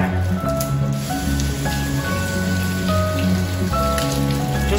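Running tap water splashes and patters over garlic being rinsed, a steady close spray with small squishy handling noises and no talk.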